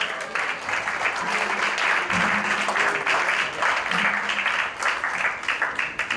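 Sustained applause from an audience at an award ceremony honoring a Cuban political prisoner, steady dense clapping filling the room with faint voices mixed in.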